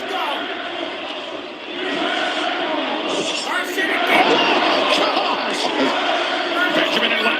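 A wrestling arena crowd at a live AEW Full Gear event in North America, roaring and cheering in a steady, loud wash of noise that swells and holds across the whole stretch, with commentary voices running underneath.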